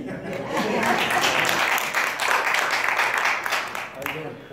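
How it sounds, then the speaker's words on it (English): Audience at a magic show applauding, the clapping swelling up within the first second into a dense, steady wash that holds, then tapers near the end, with some voices faintly mixed in. "By a round of applause, everybody applause"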